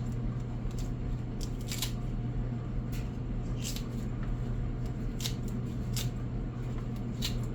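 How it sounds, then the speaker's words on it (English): Kitchen shears cutting through cooked pasta noodles for a Caesar pasta salad, a series of crisp, close snips repeating about every half second to second over a steady background hum, with no talking. "so I'm going to cut it up some with my kitchen shears"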